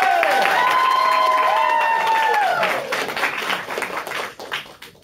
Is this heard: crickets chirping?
no